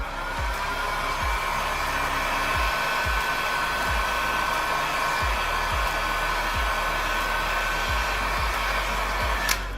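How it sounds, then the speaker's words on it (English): A heat gun blows a steady, loud stream of hot air onto fresh adhesive during a Samsung Galaxy S22 Ultra camera replacement. The whirring roar runs unbroken throughout, with faint low thumps underneath. "I like to do this, blow a little bit of heat on there again."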